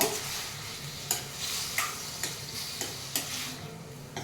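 Prawns frying in oil over a low flame, a steady spitting sizzle close by, broken by a series of brief stirring clicks every half second or so, with no one talking.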